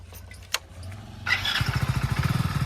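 A new motorcycle's engine cranks and catches after a few soft knocks, then settles into a steady, throbbing idle close by.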